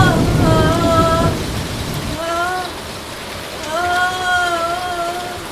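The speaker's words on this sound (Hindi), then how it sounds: "नेहा की माँ बेसब्री से बारिश के रुकने का इंतज़ार कर रही थी।" Heavy rain pours in a dense, steady hiss, with a voice talking over it in tonal bursts.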